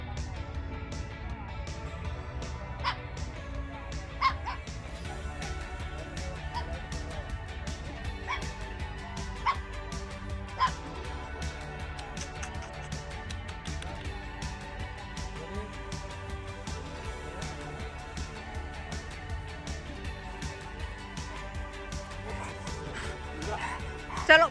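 A new puppy yaps and yips repeatedly at a much larger dog indoors, sharp little barks scattered over a steady low background hum, with occasional soft whimpers and some nearby talk.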